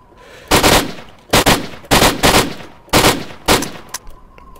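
Gunfire in S.T.A.L.K.E.R.: Lost Alpha at the Amber lake: five loud, close bursts of automatic fire with short gaps between, then a couple of faint single shots.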